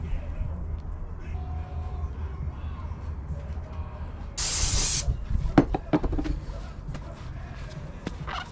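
Brake cleaner sprays from an aerosol can in one loud hissing burst of about half a second, close by, during work on a Honda CR-V's mounts. Scattered clanks and taps follow, and faint room noise runs underneath.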